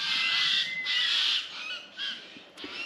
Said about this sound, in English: They're crimson rosellas, and the more greeny looking ones